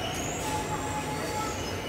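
An older subway train, model 1618, passes with a steady roaring rumble and a faint high wheel squeal, loud and continuous across the short stretch.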